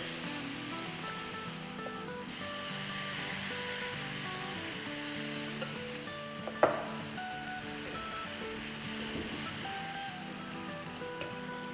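Marinated chicken, drained of its juices through a strainer, sizzles steadily in a hot pan at a low level, with one sharp metallic clank midway and soft stirring noises.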